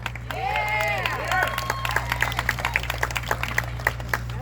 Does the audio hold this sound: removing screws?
no